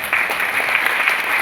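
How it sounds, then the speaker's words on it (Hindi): A seminar audience in Bhilwara breaks into brief, loud applause: a dense, even burst of many hands clapping together that lasts just over a second without pause. "एक बार ताली बजा रही है इसके लिए।"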